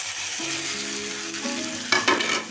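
Tomatoes and chillies added to hot oil with ginger and garlic for an Assamese tadka, a steady close sizzle with stirring clatters and a few sharper scrapes toward the end.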